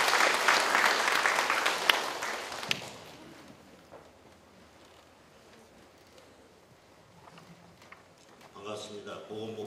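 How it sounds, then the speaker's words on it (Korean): An audience applauding to welcome a health ministry official at a centre's opening ceremony, loud, dense clapping for nearly three seconds that fades into quiet room noise before a voice begins speaking near the end. "박수로 환영해 주시기 바랍니다."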